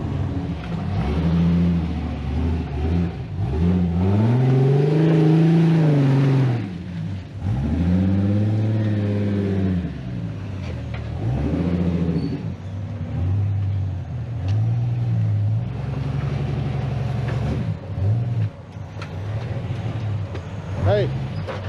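A Jeep Wrangler YJ climbing a slope off-road in the rain, its engine rumbling and revving in repeated surges as it works up the grade, with people talking over it.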